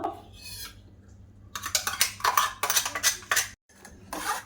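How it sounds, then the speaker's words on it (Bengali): A spoon scrapes and taps against a metal sieve while pressing ripe mango puree through it, giving close, irregular bursts of scraping and clinking with short pauses. "এবার এই আমের পিউরিটা আমি ভালো করে সেঁকে নেব, ওর থেকে যেন কোনো আঁশ না থাকে তার জন্য"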